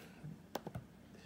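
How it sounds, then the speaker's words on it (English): Faint typing on a computer keyboard, a quick cluster of three or four soft key clicks after a brief pause, with nothing else heard. "I'm just typing this."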